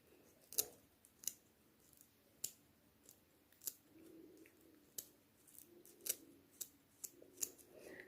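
Scissors snip the bristles of an old paintbrush being trimmed for fabric painting, giving a dozen or so quiet, crisp cuts at an irregular pace in an otherwise hushed room.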